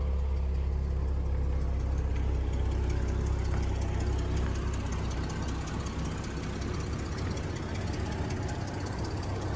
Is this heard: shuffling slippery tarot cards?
no